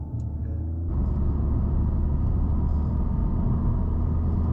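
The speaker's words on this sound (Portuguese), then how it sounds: "Tu escuta os sons aqui do motor, do câmbio, todo o carro é sensitivo" A Toyota GR Corolla engine and gearbox rumble steadily from inside the cabin, the tone shifting up as it pulls, a deep continuous drone with no talk.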